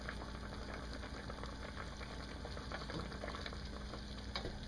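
Pork with salted black beans is stirred in a pan. A faint, steady frying crackle carries light scraping and bubbling throughout.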